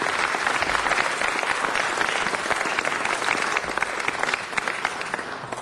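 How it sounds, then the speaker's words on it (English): An audience at a city council meeting applauds, a dense, sustained clapping that stays loud and even for over five seconds, with no talk over it. "Let's give him a round of applause."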